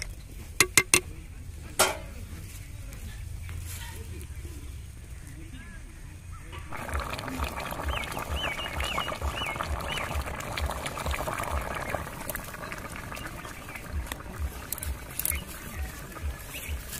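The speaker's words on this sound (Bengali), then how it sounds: "জল দিয়ে আমি 10-15 মিনিট ভালো করে ফুটিয়ে নেব।" Chicken curry for a picnic boiling in water, a soft bubbling and pattering that grows busier and louder after a few quiet seconds, with faint clicks near the start.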